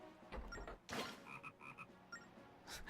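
Golden frogs in the Nintendo DS game Zelda: Phantom Hourglass, heard on the Uncharted Island, let out a quick series of short croaks in an even rhythm, mixed with other game effects.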